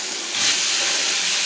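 Rice with meat, onion, garlic and ginger frying in a pan, a steady loud sizzle and hiss that swells briefly as it is stirred, with no talking.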